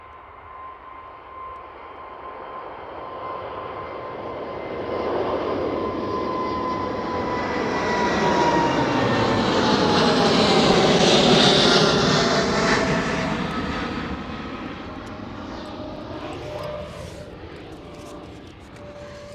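A Qatar Cargo Boeing 777 jet at Amsterdam Schiphol swells into a loud roar that peaks midway with whining tones, then slowly fades as it passes.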